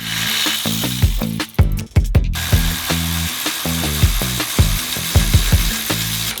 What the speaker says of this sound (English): we can now remove the 3 bolts along the lower control arm